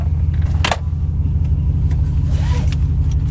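A pickup truck engine idling steadily with a low, even rumble close to the cabin, a brief click and faint rattle over the hum.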